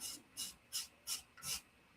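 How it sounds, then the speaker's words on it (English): A wide chisel scraping a plastic part from a 1/72 scale Dune Atreides Ornithopter model kit, five evenly spaced rasping strokes, close and fairly quiet, with no talk. "This big wide chisel works pretty good at this for like taking down."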